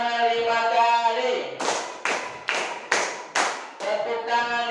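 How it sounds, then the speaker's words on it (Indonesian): Five brisk, regular group claps from a fourth-grade classroom of children during a fiqh lesson, loud and close, with an adult voice talking before and after the sequence. "Tepuk tangan 5 kali."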